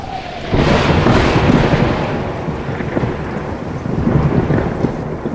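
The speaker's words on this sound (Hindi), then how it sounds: "बारिश लगातार हो रही थी और बिजली भी कड़क रही थी" Heavy rain pours steadily while a deep rumble of thunder rolls through, loud and continuous.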